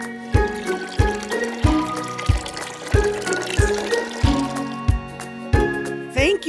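Water poured into a bucket in a jungle farm setting, coming in a series of regular splashing gushes about once a second, fairly close and fading at the end.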